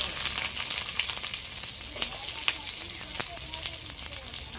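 Chopped onion frying in oil with black cumin seeds, a dense, loud, continuous sizzle with crackling pops throughout.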